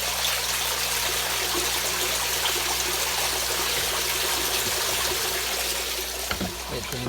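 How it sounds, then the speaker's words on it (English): Water from an aquarium siphon drains back into a sump tank, a steady broadband trickling and splashing rush that continues throughout, with a low mechanical hum underneath and a brief disturbance near the end. "It drains back into the sump tank."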